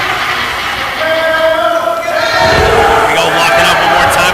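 A wrestling crowd at a stunt-studio match roars continuously as the hammer, Matt Quay, works, a dense, steady wash of cheering that swells slightly louder about halfway through and holds to the end.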